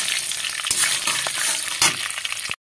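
Five slit green chillies hitting hot oil, a loud close crackling sizzle with stirring scrapes, cutting off abruptly at the end.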